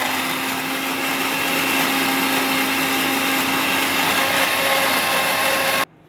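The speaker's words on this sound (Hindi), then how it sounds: "और अब जा रही हूँ चटनी पीसने" A mixer grinder whirs loudly and steadily, grinding a chutney of raw mango, onion, green chillies, black salt, cumin and asafoetida, then cuts off abruptly near the end.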